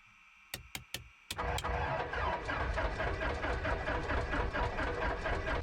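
A flooded Cessna 172 engine cranks without catching: a few sharp clicks, then a loud, close, steady rhythmic churning that carries on without talk.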